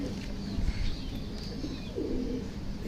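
A pigeon coos softly in a couple of low, rolling calls among other caged pigeons, with faint chirps and light background noise.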